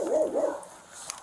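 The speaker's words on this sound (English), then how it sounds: "your dog's gotta be secure, bro" A charging dog confronted by police lets out two quick, sharp barks with a whiny, yelping edge, moderately close amid outdoor background noise.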